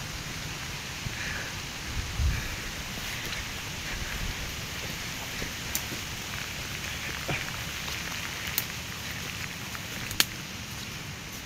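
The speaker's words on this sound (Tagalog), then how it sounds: "yan na yung malakas na ulan" Heavy rain falls steadily outdoors in the countryside during bamboo shoot gathering, a continuous dense hiss with scattered sharper drop impacts on nearby surfaces and occasional low rumbles.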